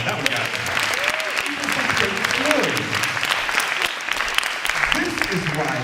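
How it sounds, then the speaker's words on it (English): Applause from an audience at an arts and activism event, a wash of clapping running throughout with voices talking and calling out over it. "Give a round of applause for that one."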